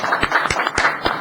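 Applause breaks out at a town council meeting, a short burst of many hands clapping close by, with sharp, irregular claps over a fast, even patter.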